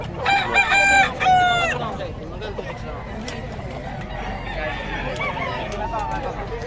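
A rooster crows loudly nearby in one long call, followed by murmuring voices and background chatter.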